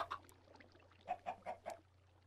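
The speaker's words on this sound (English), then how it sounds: "Chickens take so long." Chickens in the Minecraft video game clucking, a few short clucks at the start and then a quick run of four evenly spaced clucks, moderately loud over a low steady hum.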